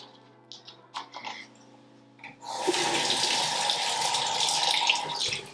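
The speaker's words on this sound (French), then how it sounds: "Donc je mets de l'eau dans ce truc là." Water runs from a tap into a small diffuser, preceded by a few light clicks and handling knocks, then a steady, close, fairly loud gushing stream that fills the last three seconds.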